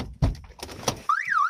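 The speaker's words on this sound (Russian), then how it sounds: "Сигнализация сработала." A car door shuts and opens with a few solid thunks, then the vehicle's alarm siren starts up loud and near, warbling in a rising and falling sweep.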